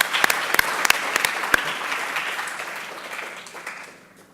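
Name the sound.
audience applause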